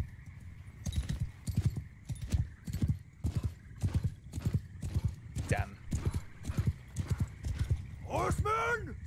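Cavalry charge in Mount & Blade 2: Bannerlord on open ground with no terrain cover: steady, rapid hoofbeats of many horses drumming throughout, with a couple of loud whinnies breaking out near the end.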